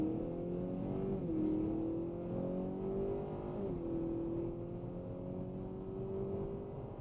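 A 2016 Acura ILX with its transmission in sport mode accelerates hard, the engine note climbing steadily through the revs with a brief dip at a gear change, loud and continuous from inside the car.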